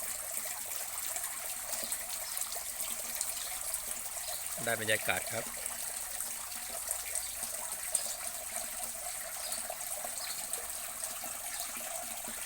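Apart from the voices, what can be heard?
small garden pond waterfall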